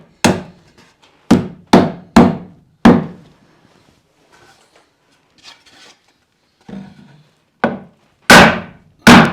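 Wood being hammered while building a tiny house ceiling: about nine sharp, loud blows in two clusters, separated by a stretch of faint rustling and shuffling, with no talking.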